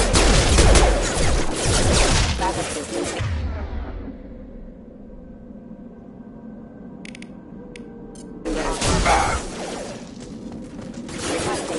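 Gunfire blasts at hostile mechs in a Nancy Drew space colony game, with a dense loud burst of shots and whooshes, a quieter hum with a few faint clicks in between, then another heavy volley.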